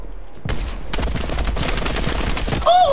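Gunfire in the video game Call of Duty: Cold War, a loud, dense burst of rapid shots that keeps going for a few seconds, with a brief electronic chime near the end.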